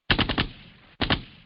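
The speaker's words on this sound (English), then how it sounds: "Gunshot for that." Gunshot sound effect: a rapid burst of three loud, sharp shots, then a brief pause and a second burst of two, close and alone with no talk.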